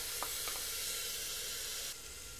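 Washed lentils and rice hiss and sizzle steadily in a hot pan as they are sautéed with spinach for khichdi, with a few faint stirring taps.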